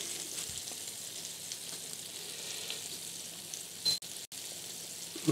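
Soup in a pot on a switched-off stove still bubbling and simmering, a steady soft sizzling boil heard close up and alone, with a couple of brief clatters near the end.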